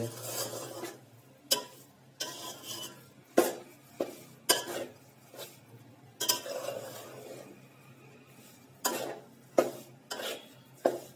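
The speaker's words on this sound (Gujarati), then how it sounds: "જે આપણો થાબાવાળો ચાળીને તૈયાર કરેલો લોટ હતો તેને ઘીની અંદર આ રીતે આપણે ધીમા તાપથી તેને શેકવાનો હોય છે" Sieved flour being roasted in desi ghee over a low flame for adadiya, with a spoon scraping and knocking against the pan in irregular strokes, close and fairly quiet, with a faint low hum underneath.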